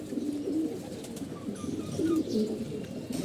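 Racing pigeons of an older breed, kept in pairs in a loft, coo repeatedly in low, throaty rolling calls that overlap from several birds close by, steady throughout with no talking over them.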